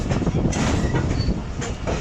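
A train at a railway platform on the Shah Hussain Express route in Pakistan, heard close as a loud, steady rumble of rolling wheels and carriage noise with faint squeals, no voices.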